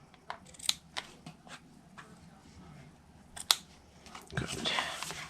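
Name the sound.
trimming paper pieces for a card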